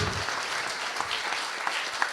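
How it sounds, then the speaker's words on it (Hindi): An audience applauds volunteer workers at a skill development project launch ceremony, with dense, sustained clapping at an even loudness and a few sharper individual claps poking through near the end. "थोड़ा जोरदार तालियां होनी चाहिए इन सारे कर्मठ कार्यकर्ताओं के लिए"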